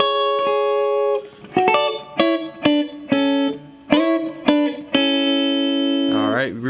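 Chords on a guitar are plucked one note at a time, playing a song in a lesson. Each arpeggiated chord rings out clearly and sustains, with a few short pauses between them.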